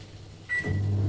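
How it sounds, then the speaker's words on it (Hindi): A microwave oven heating rice paper starts up with a short tone, then settles into a steady low electrical hum that runs on close by, with no talking over it. "सिर्फ 5 सेकंड के लिए हम करेंगे माइक्रोवेव।"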